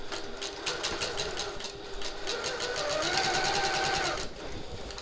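A sewing machine runs steadily, stitching a seam on a reversible hobo bag with a 3/8-inch seam allowance, then speeds up into a quick back stitch at the end before stopping.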